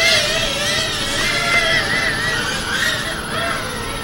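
An FPV quadcopter flies laps on BLHeli M ESC settings, its motors giving a loud, continuous high-pitched whine that rises and falls in pitch as the throttle changes.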